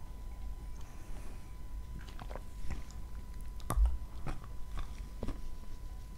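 Biting and chewing crunchy, squeaky Azov kaolin clay, with a series of sharp crisp crunches and squeaks at irregular intervals, close to the microphone over a faint background hiss.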